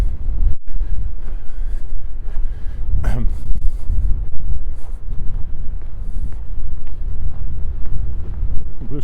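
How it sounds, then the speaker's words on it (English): Strong northwest wind blows across Wascana Lake in Regina in winter, buffeting the microphone with a steady low roar and gusts while a voice speaks over it. "now the wind's found me, blowing across the lake from the northwest."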